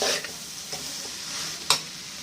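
Cooked noodles and vegetables being tossed in a hot pan, giving a continuous close sizzle broken by a few sharp scrapes and clanks of the spatula, one louder near the end.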